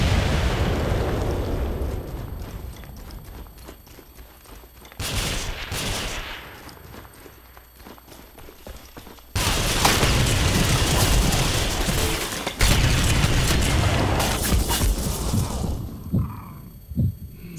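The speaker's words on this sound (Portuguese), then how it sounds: "Ah, granada!" Grenade explosions in the video game Ghost Recon Phantoms, several deep booming blasts with rumbling low-end thuds spread over the stretch amid ongoing game combat noise.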